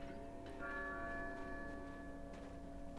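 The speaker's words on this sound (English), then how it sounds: "They stop after the bell rings." A church bell in the Resident Evil 4 video game gives a single soft toll that hums on faintly in the distance over a low background drone.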